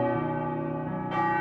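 Church bells ring with sustained, overlapping metallic tones that keep a steady resonance throughout, with no voices.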